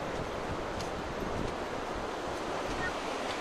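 River water rushes steadily around an island temple of Garjiya Devi near Ramnagar, a constant broadband wash with breezy wind noise and no clear voices over it.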